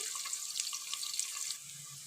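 Onions frying in a pan for vegetable biryani, a close, hissing sizzle with fine crackling bubbles, steady for about two seconds with no speech.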